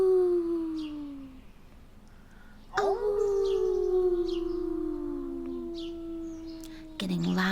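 A human voice imitates a wolf howl, a series of long sliding howls that fall in pitch, each fading out before the next one starts, delivered close and loud, with no other talk.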